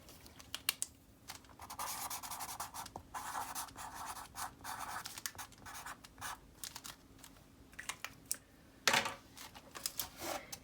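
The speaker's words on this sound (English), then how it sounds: "be sure to flip it over and add your signature" A pen scratches a signature onto the back of a foil sculpture, producing bursts of scratchy rubbing strokes with brief pauses, soft and close, alone without speech.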